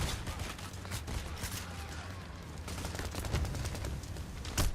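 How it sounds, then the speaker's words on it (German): Rapid gunfire from the video game Payday: The Heist, dense fusillades of automatic shots crackling continuously with no pauses. "Au, ich werde dauernd abgeschossen, aber ich sehe ihn nicht."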